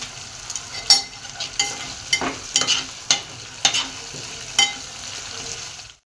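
Bay leaf and red chili pieces land in hot oil over softened tomato for a Marwari-style khichdi, giving a steady close sizzle broken by repeated clinks and scrapes of stirring in the pan.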